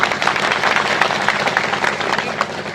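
A crowd at a speech honouring Babasaheb Ambedkar claps in a dense, even wash of applause that runs loud and steady from start to end, with faint crowd murmur beneath.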